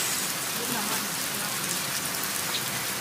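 Heavy typhoon rain pours down on the streets of Vigan in a dense, steady patter of drops on hard surfaces, a loud and unbroken wash of sound close by.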